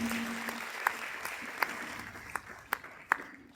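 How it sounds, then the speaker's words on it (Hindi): Audience clapping to welcome guests at a school annual day function, a faint, steady patter of many hands with a few sharper individual claps standing out, fairly distant. "जोरदार तालियों से एक बार सभी का स्वागत अभिनंदन होना चाहिए"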